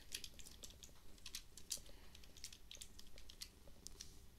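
A name is typed on a computer keyboard as quiet, close key taps in uneven bursts, a dozen or so clicks with short pauses, no voice.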